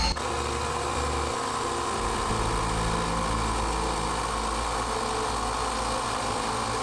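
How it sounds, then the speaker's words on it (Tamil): A portable tyre inflater runs steadily as it pumps air into a motorcycle tyre, giving a loud, constant close mechanical hum that shifts pitch slightly after its first two seconds and then holds without a break. "நம்ம டயர் இன்ஃப்ளேட்டர் வச்சு ஏர் ஃபில் பண்ணியாச்சு."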